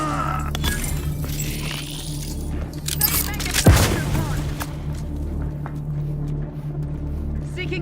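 Combat in The Outer Worlds 2 with grenade explosions and gunfire: scattered shots and one sharp blast near the middle, over a steady low rumble, with voices calling out now and then.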